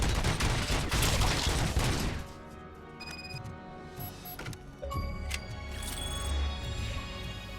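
Burst of dense gunfire in the Robocop Rogue City video game, loud rapid shots over the first two seconds, then scattered sharp cracks and clicks under a quieter game soundscape.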